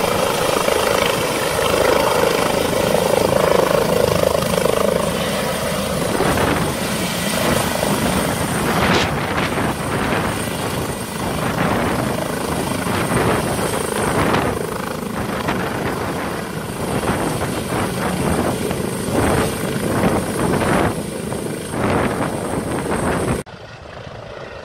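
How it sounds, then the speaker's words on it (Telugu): Helicopters flying low over forest during an aerial survey, a loud continuous rotor and engine drone with steady blade chop that holds for the whole stretch before cutting off near the end. "2 రోజులుగా ఏఓబీలో హెలికాప్టర్లలో ఏరియల్ సర్వే నిర్వహిస్తున్నారు."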